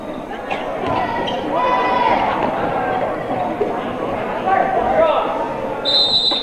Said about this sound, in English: And there's a whistle.